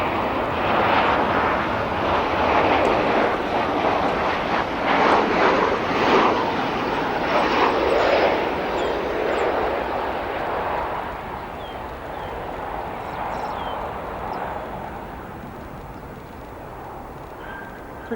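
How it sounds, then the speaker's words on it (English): Southwest Boeing 737 landing at O'Hare airport, its engines producing a loud, broad roar that holds steady before gradually easing off as the jet rolls out. "Starting, of course, with this Southwest 737."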